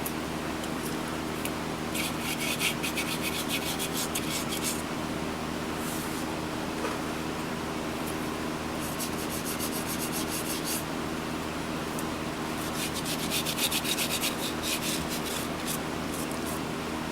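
A tool scrapes lightly across a wood bowl with the bark left on as it spins on a woodturning lathe. The rasping rub runs steady and close, with brighter bursts of scraping every few seconds.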